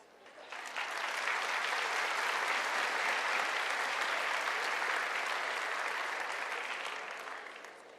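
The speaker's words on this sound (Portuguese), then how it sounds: "Gostaria que vocês se aplaudissem." An audience at a psychiatry lecture breaks into loud, dense applause that swells within the first second, holds steady for about six seconds, then tapers off near the end, with no talking over it.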